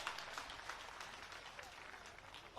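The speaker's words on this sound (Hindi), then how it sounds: "उनके लिए जोरदार तालियां।" A crowd at an outdoor election rally in Kathua with India's Defence Minister Rajnath Singh breaks into brief, dense clapping and applause, steady and moderately loud for a couple of seconds.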